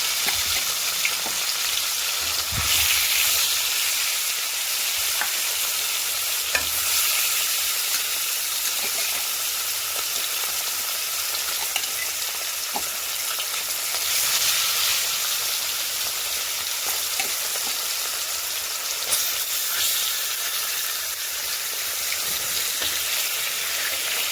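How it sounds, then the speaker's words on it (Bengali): Fish fries in oil in a hot wok, a constant loud sizzle and crackle filling the whole stretch with a few sharp pops and stirring scrapes, no voices. "এতে মাছ ভাজার জন্য তেল দিয়ে দেবো"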